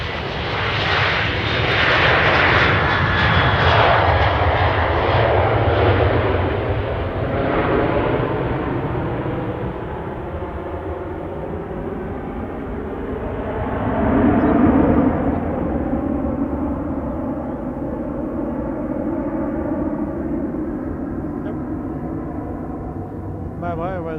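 A WestJet airliner's engines roar loudly during takeoff, a broad sustained rumble that swells and gradually recedes as the plane climbs away, with a voice speaking over it.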